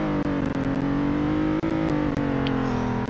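An inexpensive car engine in the Roblox game Greenville drones steadily as it accelerates along a road, a loud continuous hum with brief dips and no talk.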